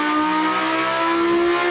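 Lamborghini Huracan STO engine revving hard on a dyno, a loud sustained high-pitched howl with steady rising harmonics, close and alone without talk.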